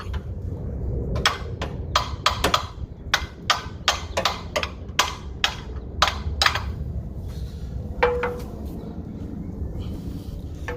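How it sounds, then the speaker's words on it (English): A series of sharp metallic knocks from a hammer on the alternator of a 2002 Jaguar X-Type, irregular and close, struck repeatedly over a low steady background hum. "Take the hammer and just knock that back just a little bit"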